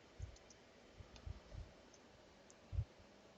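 A computer mouse clicks a few times, faint and close, with small isolated clicks spread irregularly over a quiet room background and no one talking.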